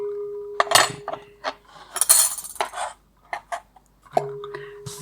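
A metal spoon scoops avocado flesh from its skin for an avocado, shrimp and grapefruit salad, giving soft scraping strokes, light clinks against a dish and occasional tonal taps, close up with quiet gaps between.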